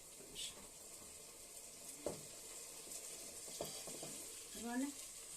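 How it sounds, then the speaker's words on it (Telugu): Vegetables for a vegetable biryani frying in a pan, a steady soft sizzle with a few faint stirring clinks and scrapes, fairly quiet throughout. "ఇక వెజిటేబుల్స్ అయితే వేయించుకుంటున్నాను"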